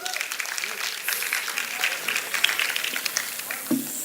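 An audience at a mushaira poetry gathering in Chakrapanpur, Azamgarh, claps in a dense, steady wash of applause that holds for several seconds from a crowd.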